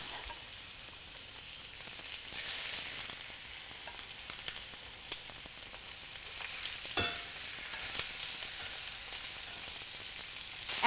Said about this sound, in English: I'm just going to go ahead and lay these chicken thighs in skin side down.